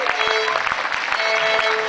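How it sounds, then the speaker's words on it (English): An audience at a summer camp concert claps for a singing class, a dense, even wash of applause lasting throughout, moderately loud with no voices over it. "Round of applause for the singing class."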